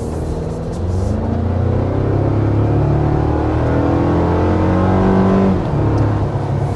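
A 2024 Toyota Tacoma TRD PreRunner with a turbocharged four-cylinder engine accelerating, a loud steady engine drone rising in pitch through the gears, heard alone without talk.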